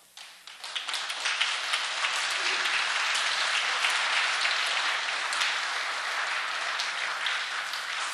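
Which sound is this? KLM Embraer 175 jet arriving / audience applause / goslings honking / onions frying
audience applause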